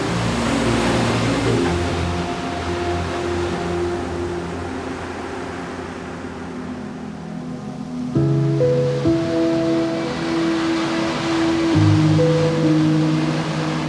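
A continuous roar of surf and rushing water, with a steady low engine drone running underneath throughout, from a Honda marine engine at sea.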